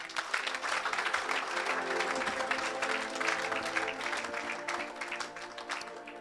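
A church congregation claps and applauds steadily for several seconds, a dense mass of hands at moderate distance with faint voices mixed in.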